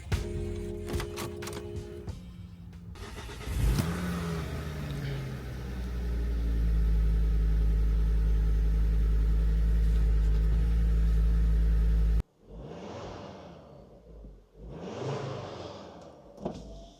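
Ford Focus ST engine cranks briefly, then catches and settles into a loud, steady idle that runs for several seconds before cutting off, followed by a few softer bursts of sound.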